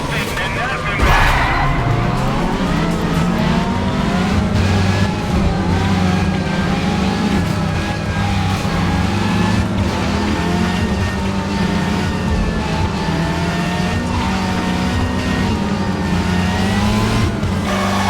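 Racing cars in Need for Speed Carbon roar continuously with steady engine drone, revving and occasional tire squeal, loud and close throughout, with a voice talking over the game sounds.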